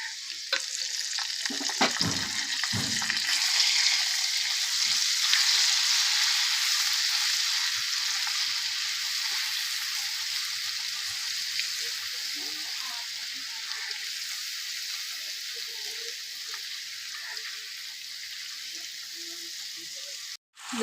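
Ground spice paste sizzles and fries with potatoes in a hot pan, a steady bright hiss with a few stirring clatters near the start, faint voices now and then.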